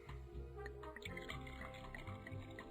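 Absinthe poured in the Barman Online video game, a soft dripping, trickling liquid sound playing faintly under a steady musical background.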